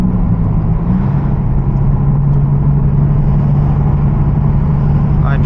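An automatic Nissan 350Z cruises on the road, its engine a steady, loud low drone with a constant hum and road rumble underneath and no clear shift in pitch.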